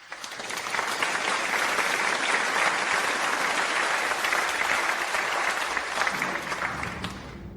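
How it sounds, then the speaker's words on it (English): An audience applauds as prize winners walk back to their seats at an award event, a sustained, even wash of many hands clapping that rises quickly and eases slightly near the end. "Let's give them another round of applause as they take their seats."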